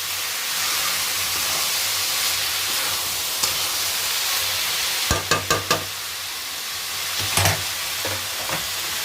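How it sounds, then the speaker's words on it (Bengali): Paneer fried rice being stirred in a hot pan, a steady sizzling hiss with a short cluster of sharp spatula knocks against the pan, then a couple more scrapes later. "অল্প ভাত দিয়ে দিয়েছি আর তারপর নেড়ে নিচ্ছি।"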